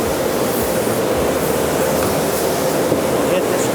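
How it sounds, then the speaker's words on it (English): A steady, dense hiss of spraying water runs continuously at close range, loud and unbroken. "Quick shot of water."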